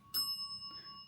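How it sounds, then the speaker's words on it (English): A small bell chimes once in a quiet haunted clown motel in Tonopah, Nevada, a clear high ring that lingers and fades, followed by a softer second touch. "And there's the bell again."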